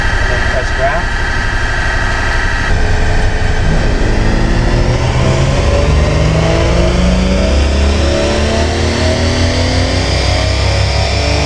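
A custom-tuned car engine revving hard to redline during a logged power pull, a loud, continuous rising roar with strong harmonics that climbs steadily, close and dominant throughout.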